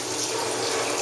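Water squeezed from clothing by a hand-cranked wringer washer pours out in a steady, dense splashing rush, loud and continuous with no talk over it.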